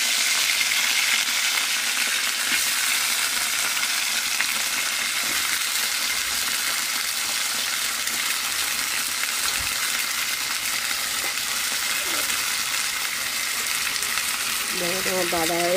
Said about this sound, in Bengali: জিরা ফোড়ন দেওয়ার পরে দেখো ফুলকপি আলুটা আমি এর মধ্যে ভেজে নেব।